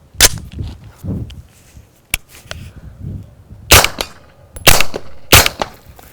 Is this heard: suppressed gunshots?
yes